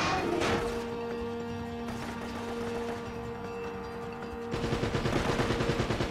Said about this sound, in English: I need to shoot this. Gotta waste the Colt bullets on this.